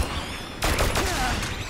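Gunfire in Dead Rising 3, a sudden loud burst of rapid shots that starts partway in and keeps going over a dense background of game noise.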